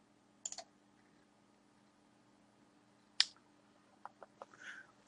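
A handful of sharp, scattered keystrokes on a computer keyboard while entering a name during a BackBox Linux installation, quiet and close, with long pauses between presses and a short cluster near the end; no talking.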